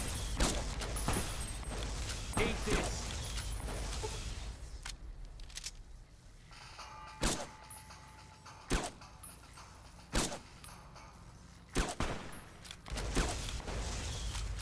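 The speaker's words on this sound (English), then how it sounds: "The rate of fire on this gun feels a bit lower than the Gobi sniper rifle that we've been using up until this point" Rifle gunfire in Fallout: New Vegas, single sharp shots spaced a second or two apart, loud and close, with quieter mechanical clicks and game ambience between them.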